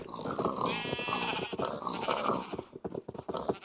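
Sheep bleating in Minecraft, a modded farm game: several wavering bleats sound close and clear over background game noise, with no voices.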